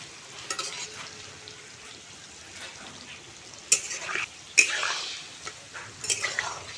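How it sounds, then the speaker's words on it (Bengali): Palm fruit fritters bubble in deep oil with a soft, continuous sizzle. A utensil stirs them now and then, making several sharper scraping clanks against the pan. "বড়াগুলো কিন্তু এইভাবে নেড়ে ছেড়ে খুব ভালো করে ভেজে নেব"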